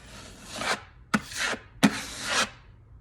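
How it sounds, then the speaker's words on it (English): A tool scrapes across heavy Tuscan wall texture in three close, rasping strokes, each opening with a sharp scratch and trailing off into a gritty drag, with short pauses between them and no talk. "So I usually scrape it like 2 or 3 times"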